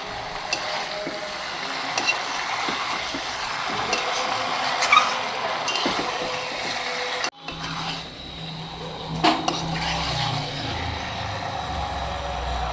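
Boneless chicken goes into a pan with cooked-down tomato and is stirred, giving steady scraping and rubbing with a low sizzle, scattered utensil knocks, and a brief pause partway through before the stirring resumes.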